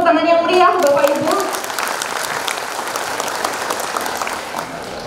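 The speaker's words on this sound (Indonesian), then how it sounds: "Kita sambut tepuk tangan yang meriah Bapak Ibu." Audience applause welcoming an official at a healthcare quality and patient safety seminar, a sustained round of clapping from a hall that starts beneath the emcee's voice and carries on alone.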